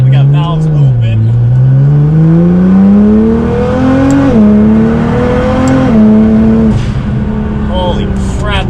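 Nissan GT-R R35 on a new tune accelerating hard with exhaust valves open, engine pitch climbing steadily through gears in a loud continuous roar with a brief shift dip, recorded from inside or close to the car.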